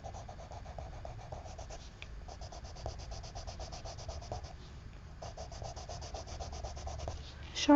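A colored pencil is sharpened in quick, repetitive scraping strokes, faint and close, with brief pauses between bursts and a louder click at the end.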